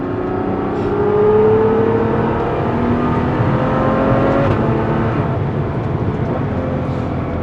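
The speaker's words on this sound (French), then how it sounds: "C'est une voiture qui est vraiment rapide." A V12 sports car engine accelerating, giving a loud, continuous high-revving roar with rising tonal whine that holds steady throughout, heard alone without talk.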